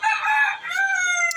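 A hill rooster at a poultry market lets out one loud, close crow with a long wavering tail, standing clear with no talk over it.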